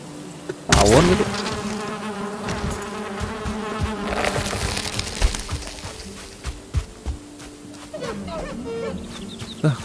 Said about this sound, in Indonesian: Ini kayak tawon gitu.